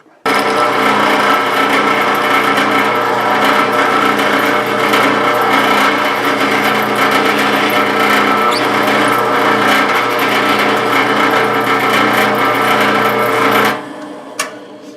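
A power drill boring a pilot hole in wood runs continuously at high speed for about fourteen seconds, a loud steady whine with grinding texture, then cuts off.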